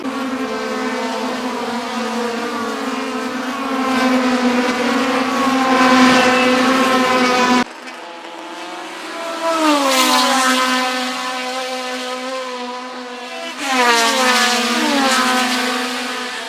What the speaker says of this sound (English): That is a car running off into the gravel as well.